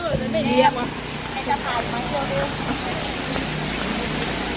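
Sai Yok Noi waterfall in Thailand, a spring-fed stream and falls, pours as a constant broadband rush, with someone talking over the water.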